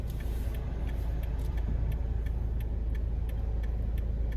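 Steady car traffic from inside a vehicle stuck in a jam, with a low continuous engine and road rumble and a regular ticking, like a turn signal, running throughout.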